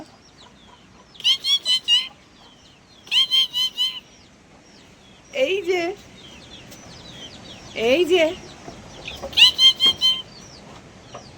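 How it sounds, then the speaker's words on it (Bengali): Hens cluck in short bursts, with a few higher peeping calls from chicks mixed in, while a person speaks briefly nearby. "মুরগির বাচ্চা আছে"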